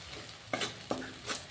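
A spoon stirring jaggery syrup in a pan for til laddu, a soft bubbling hiss broken by three short scraping strokes, quiet and close, no talking.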